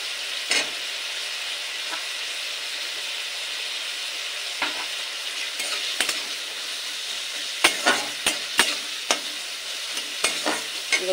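Carrots and beans fry in a pan with salt for shrimp fried rice, a continuous hiss broken by sharp spatula scrapes and taps, clustering toward the end.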